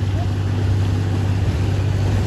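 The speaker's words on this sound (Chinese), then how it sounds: "这后面还跟着一个快艇呢" A motorboat runs on a deep reservoir lake behind the Longyangxia dam, its engine a steady low drone beneath wind and water noise, continuous and moderately loud.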